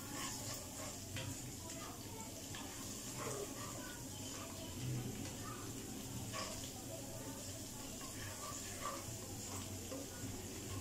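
Ginger frying in a pan for a restaurant-style chicken Shinwari karahi, giving a steady soft sizzle with light stirring scrapes, close and even throughout.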